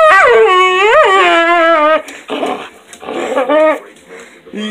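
An angry dog lets out a loud, close, wavering howl, then breaks into whimpering yelps and whines, with people talking over the later part.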